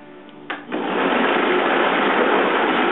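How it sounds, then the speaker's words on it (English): A variable-speed blender switches on at a slow setting while blending raw marinara sauce ingredients, jumping from quiet to a loud, steady whirring drone that holds to the end. "this blender has different settings. It has a variable speed. We're going to start with a variable speed at a kind of slow setting."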